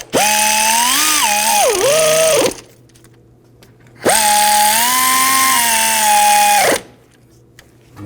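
An impact or power tool on a 2006-2009 Audi S4 snugs down front wheel hub bolts during a bearing and hub replacement, two loud sustained whirring bursts of about two and a half seconds each separated by a quiet pause.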